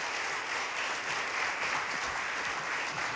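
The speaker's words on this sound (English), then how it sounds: "Can I get a huge round of applause for Adam?" A roomful of people at a Florida Oceanographic Society event applauds steadily, a dense even wash of clapping with no break from start to finish.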